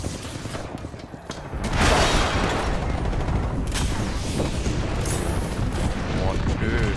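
Airstrike explosions in Apex Legends: a rolling barrage of booms and gunfire-like blasts swells up after a quieter start and stays dense and loud throughout, with voices talking over it.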